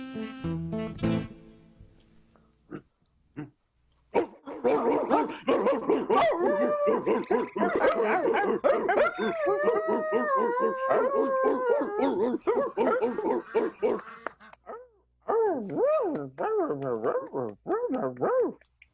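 Voices of radio-drama actors imitate three dogs, barking, yipping and drawn-out howling that overlap in a loud, close chorus, with a burst of short sounds near the start and a final run of yelps.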